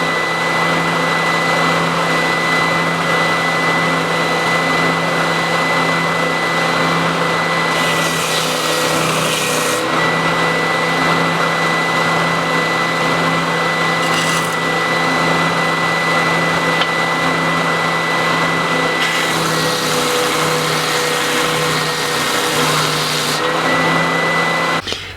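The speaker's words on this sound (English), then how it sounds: "I'm just going to clean these up on the belt sander, and I'll put a very slight radius on them as well." A belt sander in a small workshop shed smooths four small wooden pieces for a candle holder, running as a loud continuous motor drone with grinding swells as each piece is pressed against the belt, no talk.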